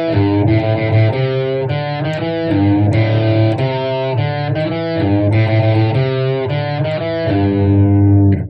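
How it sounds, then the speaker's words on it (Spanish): Distorted electric guitar playing a riff in A, with a small string bend, loud and alone, its repeating phrase of sustained notes ringing through effects for several seconds before cutting off. "pero el riff es así, también en el tono de La"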